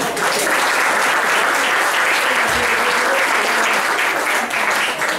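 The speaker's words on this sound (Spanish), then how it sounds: "le aplaudimos" An audience at a church-planting seminar claps for several seconds, a dense, even burst of applause that stays loud and steady from start to finish.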